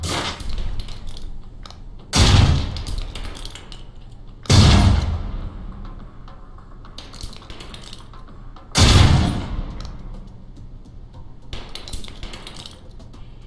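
Concussion grenades in the Alpha Protocol video game explode in three loud, sharp blasts spaced a couple of seconds apart, each with a short rumbling tail, over quiet game ambience.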